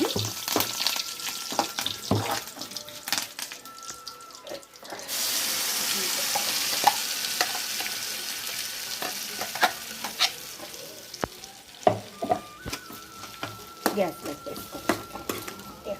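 Curry leaves sizzle in hot oil while tempering for a coconut, green chili and peanut chutney, a steady frying hiss with scattered clinks and stirring scrapes from the pan, close up and without talk.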